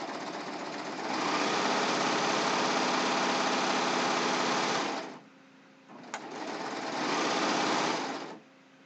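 A serger stitching fabric for a ruffled pillowcase: a steady, close mechanical whirr running for about four seconds, a short pause with a click, then a second even run of stitching.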